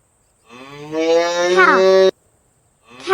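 A cow moos once, a long loud low call that rises slightly and then cuts off, with a brief hint of another call starting right after a short silence. It is heard close and alone.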